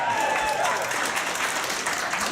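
Audience clapping at a stand-up comedy show, a dense, loud burst of applause from a theatre crowd that carries evenly throughout, with faint crowd voices and a brief whistle-like tone early on.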